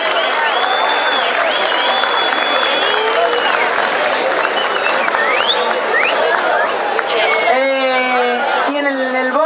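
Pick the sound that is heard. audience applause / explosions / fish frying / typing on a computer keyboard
audience applause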